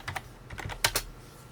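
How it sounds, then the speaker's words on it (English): Typing on a computer keyboard: a quick run of crisp key clicks up close, including a couple of louder taps, with no talking. "Just keep on typing."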